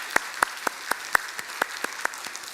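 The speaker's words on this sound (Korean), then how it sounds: "여러분 격려의 박수를 해주시기 바랍니다" A church congregation claps in unison during a Sunday service, giving about ten crisp, evenly spaced claps in a steady rhythm, close and distinct.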